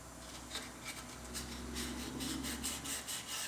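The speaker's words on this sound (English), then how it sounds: "Take a little sandpaper and we'll sand off that little fine coating of rust in there." Sandpaper rubbed by hand over metal to scrub off a fine coat of rust on a wrecked Lexus IS250, a steady close scratchy rasp of repeated strokes with no talking.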